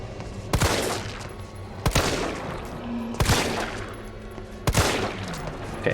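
Four sharp, loud gunshots fired at enemies in Resident Evil 3, spaced roughly a second and a half apart over a steady game background, with no talking.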